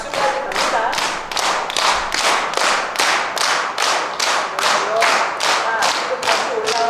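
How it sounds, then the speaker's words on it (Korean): A group doing exercise claps hands in unison, about fourteen sharp, evenly spaced claps in a steady rhythm, close and fairly loud in a room. "박수까지 갑니다."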